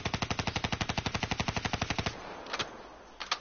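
Rapid automatic gunfire in Call of Duty Black Ops 3 Zombies: a fast, even burst of roughly twenty loud shots over two seconds, then two isolated bangs after a short pause.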